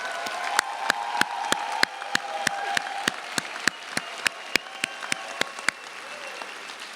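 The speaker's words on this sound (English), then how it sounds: "Please join me in giving a round of applause to our new doctors of epidemiology." A commencement crowd applauds new doctors of epidemiology, steady clapping with a few individual sharp claps standing out near the front, continuing throughout.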